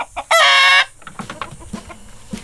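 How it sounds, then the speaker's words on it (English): Near, loud rooster gives one short harmonic crow-like call, followed by a run of softer rapid clucks and scratchy shuffling close by, with no people speaking. "Look at that rooster."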